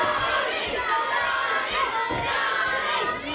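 A wrestling crowd roars and yells for Johnny Cove, a continuous mass of shouting voices that rises and falls in waves across the arena.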